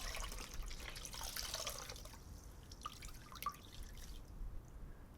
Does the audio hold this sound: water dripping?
yes